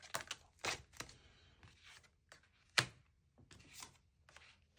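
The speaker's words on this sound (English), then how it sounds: "Right, one more shuffle." Tarot cards being shuffled make quiet, crisp riffling clicks and flutters in short irregular bursts, close by, with no talking.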